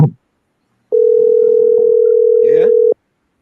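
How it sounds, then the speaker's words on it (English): During a call attempt on a phone line, a single loud, steady telephone tone sounds for about two seconds, with faint voices underneath and a brief bump of sound just before it. "So folks, I tried, but the phone is busy."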